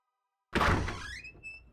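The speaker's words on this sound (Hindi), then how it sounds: "जा दरवाजा खोल।" A door swings open with a sudden loud thunk, then a short, fading squeak as it keeps moving.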